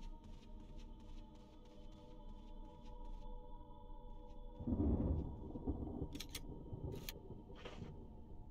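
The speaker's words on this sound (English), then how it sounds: "Fucking thunderstorms." Thunderstorm ambience in the video game Resident Evil Remaster: a steady bed of rain and low rumble, swelling into a loud rolling thunder burst midway, followed by a few sharp crackles near the end.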